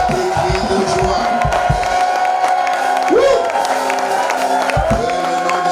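A crowd at a church prayer service cheers and claps in a dense, continuous roar, with shouts and whoops rising over the steady noise.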